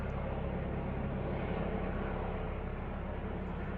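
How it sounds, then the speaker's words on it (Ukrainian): Helicopter flying overhead above a forest during a mushroom hunt, heard as a steady, broad low rumble that holds at an even level throughout without any talk. "Гелікоптер."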